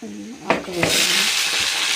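Freshly washed amaranth leaves dropped into a hot pan, giving a sharp burst of sizzling and frying that settles into a steady loud crackle, with a couple of stirring clatters near the start.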